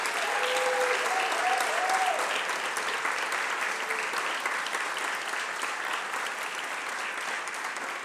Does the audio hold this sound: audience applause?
yes